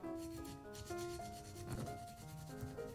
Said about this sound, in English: Grate the garlic clove.